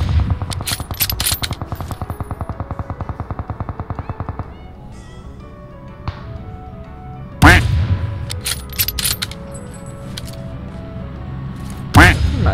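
Rapid bursts of automatic gunfire in PUBG Mobile rattle at the start, followed by scattered single sharp shots and loud cracks, with game effects and a voice talking underneath.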